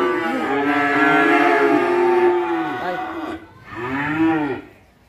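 Cattle at a Vietnamese cattle farm selling beef breeds such as BBB moo loudly and close, one long sustained low call followed by a second shorter moo, with faint talk in the background.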